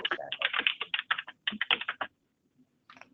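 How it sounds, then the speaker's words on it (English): Rapid keyboard typing clatters close to the microphone in quick bursts, then stops, with a few more keystrokes near the end, during an online meeting. "I would like to just interject here and ask whoever is typing to please mute yourself."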